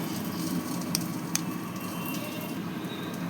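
Food frying on a tawa gives off a steady, quiet sizzle with a couple of faint clicks, and no voices are heard.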